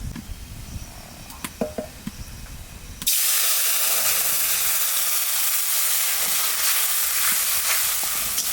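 Mustard paste for shorshe ilish hits hot oil with black cumin seeds and erupts into a loud, steady, close sizzle and hiss that runs unbroken after quieter kitchen sounds.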